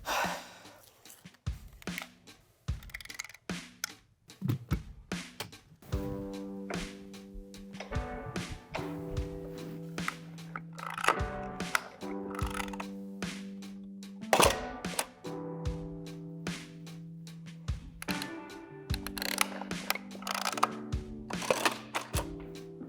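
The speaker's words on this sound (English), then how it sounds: "this is how you load the Mamiya RB" Film being loaded into a Mamiya RB67 medium format camera, with close clicks, thunks and mechanical handling sounds under steady tonal background music.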